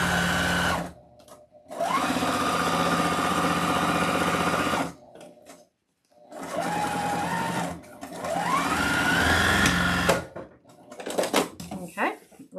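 Sewing machine stitching fabric for a Victorian witch Halloween wreath attachment, running in loud steady bursts that stop, pause and restart, with a voice talking alongside.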